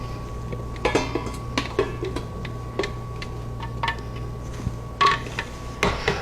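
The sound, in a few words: cranberry mustard mixture moved into a pot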